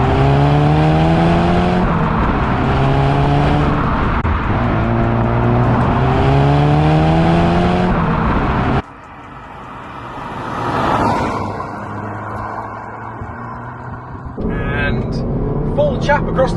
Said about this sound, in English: That was the Golf GTI going down my country lane for the OverRun Cup.